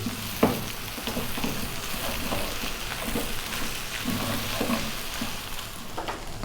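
Chow mein noodles with chicken and a poured-in egg mixture sizzle steadily in a hot pan while being stirred, with scraping strokes of the utensil and a sharp clack near the start; no one speaks.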